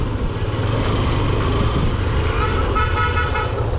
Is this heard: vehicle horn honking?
yes